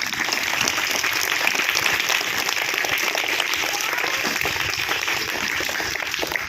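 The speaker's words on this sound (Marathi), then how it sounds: "होऊन जाऊ दे जोरदार टाळ्या." An audience at a Reulgaon Zilla Parishad school event claps continuously, a dense, even wash of applause that holds at steady loudness from start to finish with no voices standing out.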